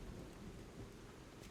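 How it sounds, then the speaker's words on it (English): Rain and thunder in the video game Lies of P: a dense, steady wash of rainfall with a low rumbling undertone, faint and continuous, with no speech. "So the rain makes everything shiny"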